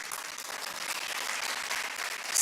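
A crowd at a university youth entrepreneurship event in Odisha applauds dignitaries on the dais, producing a continuous, even wash of clapping that holds at a steady level throughout.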